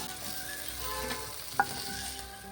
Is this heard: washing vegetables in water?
no